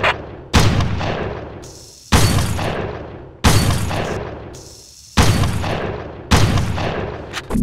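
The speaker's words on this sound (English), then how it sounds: "You have to shoot all the bottles before advancing to the next section of training." Gunfire in the Red Faction video game as bottles are shot during target-practice training: five sharp, loud shots at regular intervals of roughly a second and a half, each trailing off in a decaying echo, with no talking.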